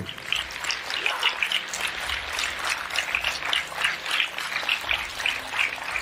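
A crowd at a health talk claps hard in a steady, pulsing wave of dense, bright hand-claps that holds through the whole stretch at moderate loudness.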